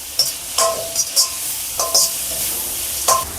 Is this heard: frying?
yes